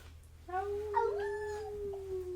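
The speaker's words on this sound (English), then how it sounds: "As the night proceeds, you hear a distant and eerie howl." A distant, eerie animal howl rises and bends in pitch, then trails off over a couple of seconds against a quiet night backdrop.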